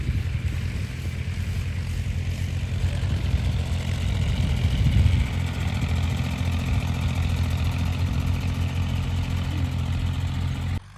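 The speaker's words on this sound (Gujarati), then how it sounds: "આ એક ટ્રેક્ટર આ પેલું રહ્યું બીજું ટ્રેક્ટર અને ત્યાં ત્રીજું ટ્રેક્ટર ચાલુ" A tractor engine runs at a steady idle on a Gujarati village farm, giving a continuous, close, even low rumble with no voices for the whole stretch before it cuts off at the end.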